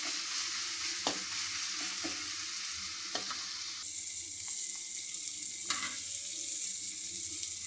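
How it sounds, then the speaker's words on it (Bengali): Tripe (bhuri) cooks in a pan while being stirred, giving a steady close hiss with intermittent scraping strokes of the spoon, moderately quiet and without talk. "দেখুন একটু নেড়ে দিচ্ছি এখন আমি"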